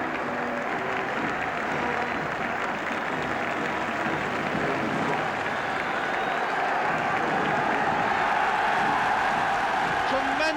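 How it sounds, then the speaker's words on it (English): A large stadium crowd at the 1971 League Cup Final between Spurs and Aston Villa cheers and applauds for Aston Villa, a dense, continuous roar that holds steady throughout. "Tremendous cheering for Aston Villa."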